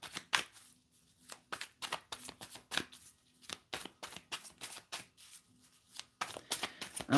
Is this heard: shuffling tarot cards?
yes